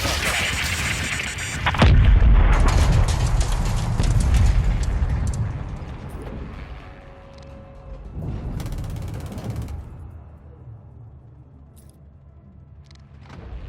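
Heavy cannon blasts from an armored vehicle in the video game Modern Warfare 2, mechanical clanking ringing out with rumbling echoes, followed by whirring machinery and a lower background hum.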